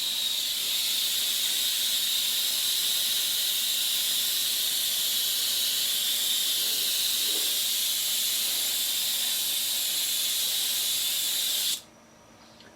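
Spray paint hisses in one steady, loud, close stream across a 3D printed V Sky Fighter model for about twelve seconds, then stops abruptly, leaving quiet room tone.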